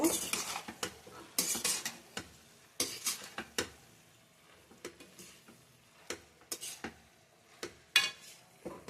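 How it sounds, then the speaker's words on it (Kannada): A metal spoon stirs a vegetable and paneer filling in a pan, giving irregular clinks and scrapes spread over several seconds, fairly quiet and close, with no talking. "ಎಲ್ಲ ಚೆನ್ನಾಗಿ ಮಿಕ್ಸ್ ಮಾಡಬೇಕು"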